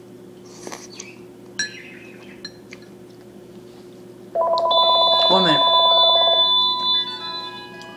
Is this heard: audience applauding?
no